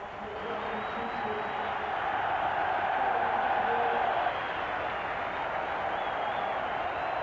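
Broad roar of a football stadium crowd cheering an Arsenal substitution in the 1994/95 season, a sustained wash of applause and voices at steady loudness throughout.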